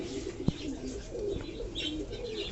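Pigeons coo softly and continuously nearby while being hand-fed water-soaked brown chickpeas, low murmuring calls with a sharp tap or flutter early on.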